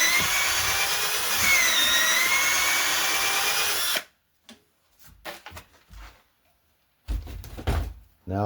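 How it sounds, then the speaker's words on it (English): A power drill boring a 5/16 hole into the center of a wooden bowl blank, a loud steady whir lasting about four seconds before cutting off, followed by faint handling knocks and a brief final burst. "now I have to drill a 5/16 hole in the center for my 3/8 screw chuck"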